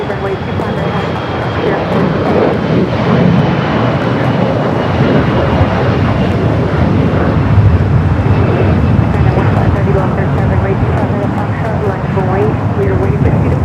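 An airliner departs runway 25 right at LAX, its engines a steady, broad roar that holds for the whole stretch, with voices talking over it.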